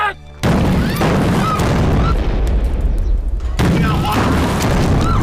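A Japanese Type 92 infantry gun fires with loud booming blasts, followed by a sustained roar and crackle of battle. It is loud and close, with some shouting mixed in.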